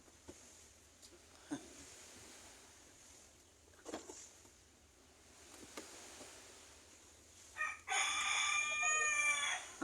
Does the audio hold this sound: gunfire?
no